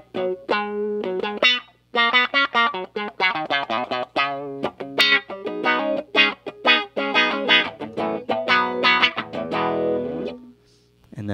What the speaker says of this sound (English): And wah, I have an auto wah kind of setting.